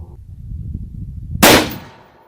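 A single sharp, loud gunshot from a Desert Tech MDR rifle chambered in 6.5 Creedmoor cracks at close range over low outdoor rumble, then its echo decays quickly.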